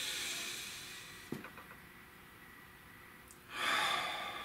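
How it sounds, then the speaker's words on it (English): A single deep breath drawn in and let out slowly, soft and close in a quiet room, with a brief sharper intake partway through and a louder airy exhale near the end. "Nice deep breath."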